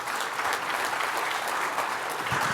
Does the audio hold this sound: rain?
no